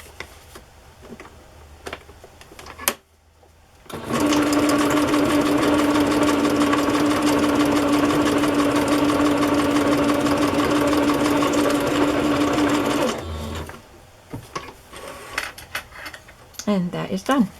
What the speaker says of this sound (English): And I'm just going to sew them down the middle.